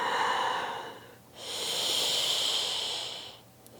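Slow, close breathing during a yoga hamstring stretch: a softer breath fades out, then one long airy inhale lasts about two seconds before trailing off, all alone with no talk.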